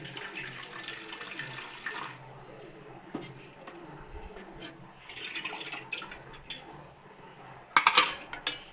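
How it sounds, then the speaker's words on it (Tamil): Tamarind water pours and splashes into a vessel with soft clinks of a utensil, a brief louder splash near the end, and faint background activity. "புளி தண்ணியை ஊற்றியாச்சு"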